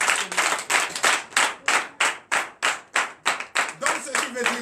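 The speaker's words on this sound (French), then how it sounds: "Donnez l'acclamation à Jésus." A church congregation at a Sunday worship service in Comè, Benin claps in a steady, rhythmic beat, about a dozen sharp, loud claps in unison with some voices rising underneath.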